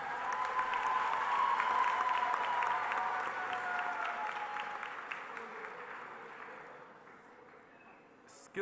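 An audience at a SkillsUSA opening ceremony claps steadily in a large room, the applause gradually fading out near the end.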